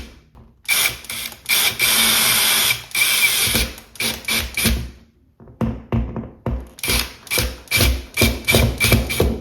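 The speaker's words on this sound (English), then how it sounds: "So as we tighten up, the back of those wall anchors spread out and create resistance" Drill driving screws through a towel bar bracket into wall anchors, with repeated loud whirring bursts close up, one longer run, then a quick series of short stop-start pulses as the screws snug tight.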